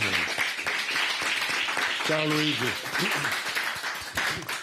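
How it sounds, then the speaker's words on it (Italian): Applause for a longtime club president fills a studio broadcast, steady dense clapping running throughout while people speak over it. "Volevo fare un applauso"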